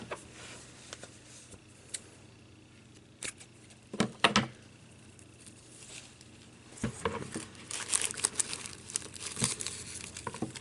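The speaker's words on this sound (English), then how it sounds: "tying a cheap 1/8 inch red ribbon around the tops here" A thin, cheap 1/8 inch red ribbon being tied around the tops of candy bars, making soft close crinkling and rustling handling noises with scattered brief taps, growing busier toward the end, with no talk.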